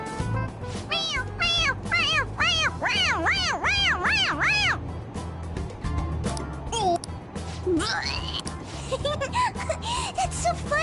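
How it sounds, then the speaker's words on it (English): A toy cat in a PS4 game meows repeatedly as its head is pressed, producing a rapid run of bright, close meows followed by a few scattered fainter mews over game background. "It meows when you press on its head."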